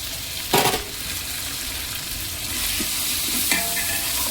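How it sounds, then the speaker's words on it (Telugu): Masala spices frying and being stirred in a pan for biryani, a steady loud sizzle with a few spoon scrapes against the pan, no voices. "ఇలా బాగా ఫ్రై చేసుకోవాలి"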